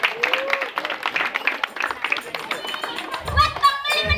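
A crowd claps at a Betawi wedding's palang pintu performance, with scattered rhythmic hand clapping mixed into loud chatter and a voice talking over it.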